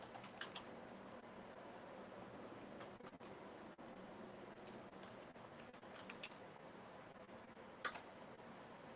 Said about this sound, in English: I'm gonna type the link.